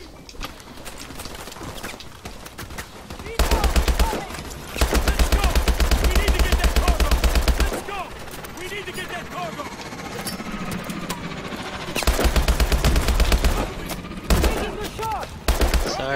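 Automatic weapon fire in the video game Call of Duty: Advanced Warfare, loud rapid bursts of rattling gunshots in several long stretches with shorter gaps between, close and heavy against a busy battle background.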